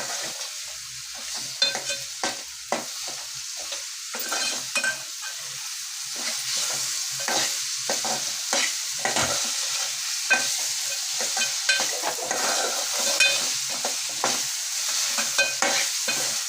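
Chicken for biryani sautés in a pan with salt, with repeated spatula stirring and scraping over a steady frying sizzle, close and continuous, with no voices.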